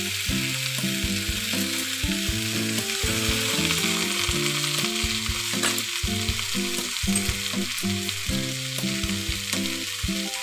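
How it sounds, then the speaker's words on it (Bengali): Cauliflower stalks fry in a pan with mustard paste added, giving a loud, steady sizzle alongside a stirring scrape throughout, with no talk. "এবার আমি দিয়ে দেবো সর্ষে বাটা।"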